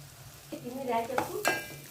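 Onions frying in a pan for a chicken fry, a brief soft sizzle with a couple of quick stirring scrapes and a sharp utensil clink near the end.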